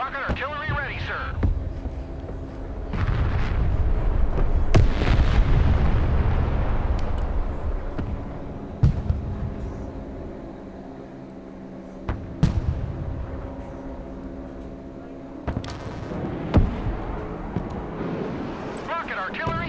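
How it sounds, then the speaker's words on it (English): Rocket artillery firing in the Broken Arrow video game: several sharp, loud launch cracks and booms at scattered intervals over a sustained rumbling battlefield roar, with voices talking throughout. "At your command, we unleash hell, sir. Rocket artillery ready, sir."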